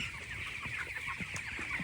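Broiler chickens in a poultry house cluck continuously in a dense flock chorus, over a steady fan-like background hum.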